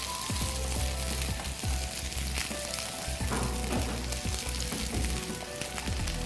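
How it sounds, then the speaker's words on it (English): Onions and garlic frying in a pan give a dense, loud, continuous sizzle with crackling spatters and occasional low knocks of the pan, close up throughout. "We put the onions in the pan"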